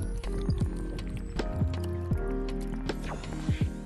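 Gulping and sloshing as someone drinks from a jug mid-workout in a grimy basement home gym, with soft wet swallows and liquid movement close up.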